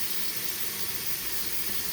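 Hot water pours steadily from a tap into a sink for rinsing a brush, a close, continuous hissing splash with no voices.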